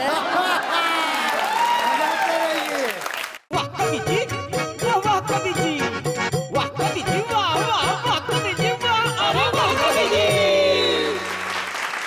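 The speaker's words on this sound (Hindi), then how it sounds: "तालियां बजनी चाहिए" A studio audience at a Bhojpuri comedy and poetry TV show bursts into loud, sustained applause and cheering, with voices mixed in throughout.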